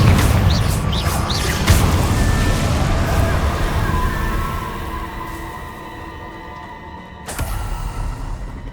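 Confringo fire spell cast in Hogwarts Legacy, a loud, dense booming blast with sharp pops early on that decays into a rumbling tail, then a second sharp burst near the end.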